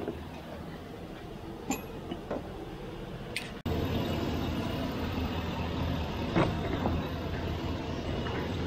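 A Chevrolet Silverado 2500HD with a 6.0L engine runs steadily with its A/C compressor clutch being struck: a few sharp metallic knocks ring out over the engine noise, then the running sound abruptly steps up louder and stays there.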